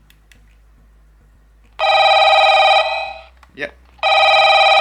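An Echo Chime300 wireless doorbell signaler for the hard of hearing rings loudly twice, each time a steady bright multi-tone chime lasting about a second, with a single short spoken word between the rings.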